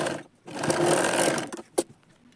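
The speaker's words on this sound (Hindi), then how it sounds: "इस पर हम एक कच्ची सिलाई लगाते हैं।" A sewing machine runs a loose basting stitch on a katori blouse, whirring steadily and close for about a second before stopping with a brief clack.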